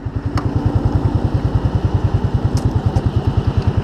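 Close recording of a Yamaha Fazer 250 motorcycle engine running with a steady rapid thumping pulse, loud and even, with small clicks over it and no talk.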